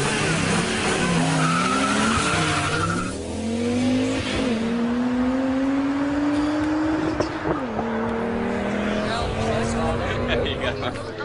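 Cars at a street race roar past, engines revving and rising in pitch, with tires skidding and squealing throughout, loud and close, while a voice talks over the continuous racing noise.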